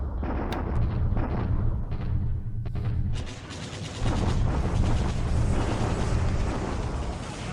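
Artillery fires in a WWII Pacific strategy game set in 1942, with Japan against the Allies. Rolling booms and explosions blend into a loud, continuous rumble, easing briefly before building again.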